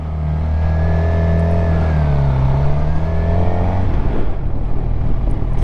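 A motorcycle engine fires up after a no-start fault traced to the clutch switch, settling into a steady loud idle with a brief rev before the sound breaks up and fades near the end.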